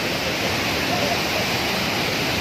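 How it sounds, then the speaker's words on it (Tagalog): Taytay Falls in Majayjay, Laguna pours steadily. A broad, constant rushing roar sounds close and loud, with a voice heard faintly under it. "Taytay Falls na to."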